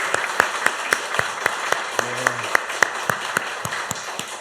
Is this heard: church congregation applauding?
yes